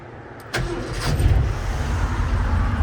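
A 1979 Ford F150 4x4 cold starts with a brief crank that catches abruptly and settles into a loud, steady rumbling idle close by, with no talking.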